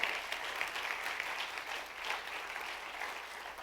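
A church congregation claps for the Lord, a steady, fairly distant and quiet wash of many hands applauding without speech.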